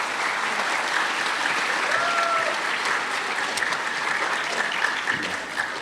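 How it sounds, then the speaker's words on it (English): Audience at a Veterans Day ceremony gives sustained applause, a dense, even wash of clapping that stays steady for several seconds with faint voices mixed in. "How about another applause for General Haddad?"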